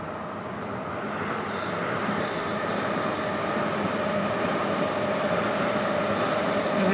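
A train on Tokyo's railway rumbles along steadily, a continuous broad roar that slowly grows louder as it approaches, with no voices.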